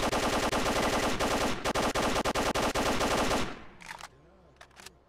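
Loud, sustained machine-gun fire in the video game S.T.A.L.K.E.R., a dense burst lasting several seconds that cuts off abruptly, followed by a few quieter isolated shots and faint background noise.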